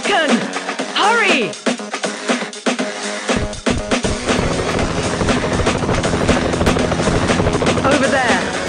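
A rescue helicopter in a mobile shooter game, its rotor thrumming loudly and continuously under game effects and music, with voice lines playing over it.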